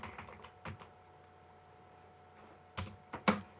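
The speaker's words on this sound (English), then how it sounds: "Now I'm just typing anything." Typing on a computer keyboard: scattered, close key clicks with a few louder clustered taps toward the end, over a quiet background hum.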